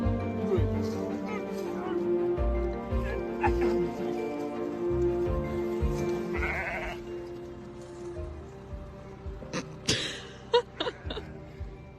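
A sheep bleats a few times over a busy background of music and voices, its calls rising out of the mix toward the end.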